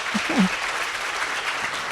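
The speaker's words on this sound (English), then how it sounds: "All right, that requires an applause." An audience at a fall college convocation claps for about two seconds, a steady wash of applause from a large crowd heard at moderate distance with no voices over it.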